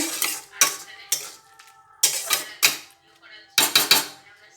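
A spoon stirs chutney with cashews and raisins in a metal pot, giving several sharp scraping clanks in uneven bursts separated by short quiet gaps, close and fairly loud.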